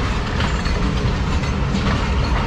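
The Islamabad Express passenger train, running between Lahore and Rawalpindi, rolls past on the rails with a loud, steady rumble and a continuous rattle of wheels close by.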